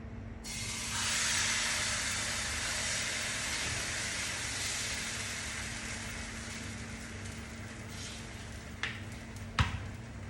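Dosa-style pancake batter poured onto a hot pan, a broad steady hiss that swells in at the start and holds evenly throughout, with a couple of sharp clinks near the end.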